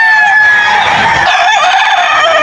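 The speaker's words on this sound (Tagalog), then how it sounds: "Marami kang dalang manok." A loud rooster crows close by at an outdoor poultry market, one long drawn-out call with clucking fowl around it and no voices.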